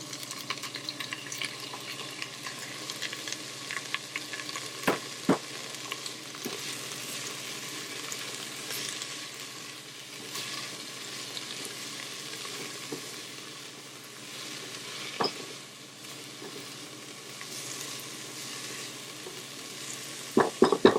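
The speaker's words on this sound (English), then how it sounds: "Now we're going to let this saute for about 2 to 3 minutes." Tomato and garlic sautéing in a pan give off a steady, close sizzle that runs throughout, with a few sharp stirring clicks and scrapes over it.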